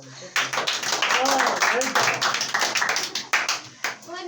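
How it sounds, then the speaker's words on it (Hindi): Students in a classroom clap together after a geography lesson on India's map, a burst of quick, uneven claps that thins out over a few seconds, with children's voices and talk mixed in. "इसके लिए ताली तो बजा दो।"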